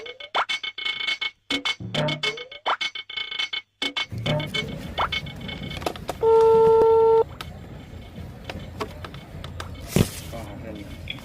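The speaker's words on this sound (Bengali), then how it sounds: "এটা ফোন দিয়ে দেখি" Several quick electronic beeps sound, like keys being pressed on a phone, followed by a steady tone, after rapid nearby talking.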